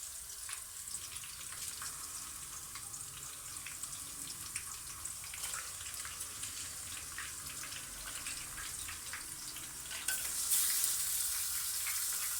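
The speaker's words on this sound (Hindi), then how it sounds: "अब मैं इसमें चिकन डालने लगी हूँ।" Chicken pieces hit browned frying onions in a pan, giving a steady, close sizzle and crackle with stirring scrapes throughout, rising slightly near the end, with no talk.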